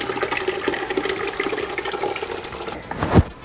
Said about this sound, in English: And we'll just pour the whole thing right in.